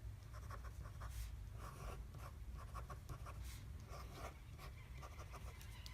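Pen or pencil scratches across paper in a run of short strokes while fraction sets are drawn, quiet and close with a faint background hum and no speech.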